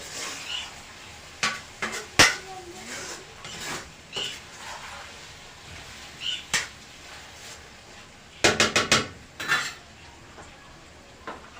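A spoon stirs tomatoes in a metal pot while making pulao, scattered clinks and scrapes against the pot, with a quick cluster of clanks near the end; no talking.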